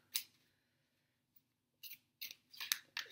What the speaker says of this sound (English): the most typical way to shuffle is by going like this